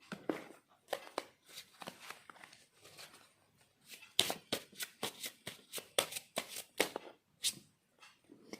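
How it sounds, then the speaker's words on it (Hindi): A deck of cards for a card reading is shuffled close up in quick riffling bursts, a steady series of crisp, soft flutters and snaps with short pauses between them. "लास्ट एडवाइस कार्ड आपके लिए हम पुल कर लेंगे।"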